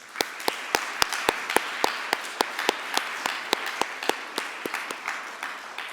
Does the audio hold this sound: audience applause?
yes